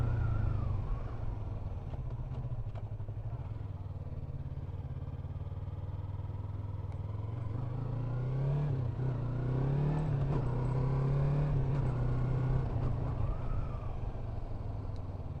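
A Yamaha MT-03 motorcycle rolls slowly in 2nd gear at low speed, its engine a steady close low rumble that rises and falls gently with small throttle changes, with no voices over it.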